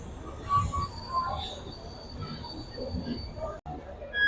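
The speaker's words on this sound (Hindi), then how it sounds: "मेरी ट्रेन आ गई है। मेरी ट्रेन का नाम है मधुपुर हमसफर एक्सप्रेस ट्रेन।" A Madhupur Humsafar Express pulling into a railway platform, wheels squealing on the rails with a rumbling undercurrent and a high metallic screech over the steady noise of the approach.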